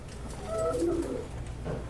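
A Wickham racing pigeon coos softly a few times, a low, close, gentle call over a quiet background.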